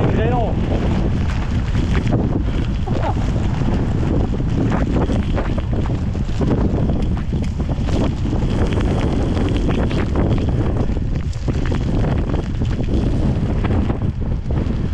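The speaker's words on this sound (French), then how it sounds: "Bien froide avec le vent plein face, ça c'est bon ça." Strong wind from storm Ciaran batters the camera on a seafront mountain bike ride. The gusts make a continuous, loud, rough buffeting roar that covers everything else.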